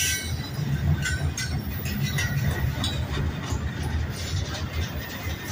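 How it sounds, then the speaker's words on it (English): A train rumbles steadily past nearby, a continuous loud rolling roar with faint metallic squeals and rattles throughout. "Pretty long train here."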